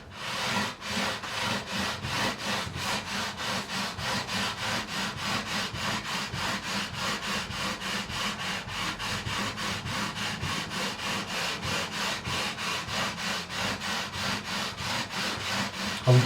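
Fine 400 grit sandpaper rubs back and forth over a Telecaster fretboard in a steady, even rhythm of about three strokes per second, close and continuous with no voices.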